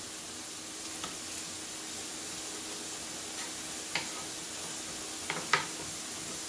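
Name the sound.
chicken breast stir fry sizzling in pan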